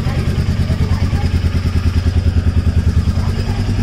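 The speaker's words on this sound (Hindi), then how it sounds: "ऐसा लग रहा है बरसों बाद अपनी बाइक को कोल्ड स्टार्ट कर रहा हूँ।" Motorcycle engine on a cold start, thumping with a fast, steady pulsing beat at close range and fairly loud throughout.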